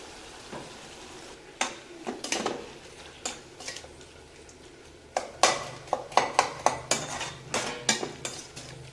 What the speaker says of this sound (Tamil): இது நல்லா ட்ரை ஆகிற வரைக்கும் லோ ஃப்ளேம்லேயே அடிக்கடி கிளறி விட்டுட்டே இருக்கணும்